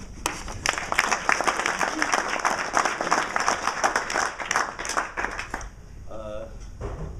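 Audience applause at a soccer banquet, a dense burst of clapping from a crowd that fades out, with a voice heard over it.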